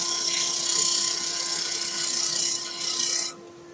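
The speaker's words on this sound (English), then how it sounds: "So if we get to the skew, tidy up that surface first." A skew chisel smooths a wooden salt or pepper grinder spinning on a lathe, making a steady scraping, shaving rasp over the motor's hum. The cutting stops sharply near the end, leaving only the hum.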